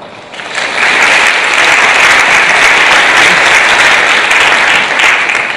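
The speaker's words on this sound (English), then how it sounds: "let's give Ted another big round of applause for this effort" Sustained round of applause from a conference audience after a tech talk, dense and steady, rising quickly and holding at full strength for several seconds.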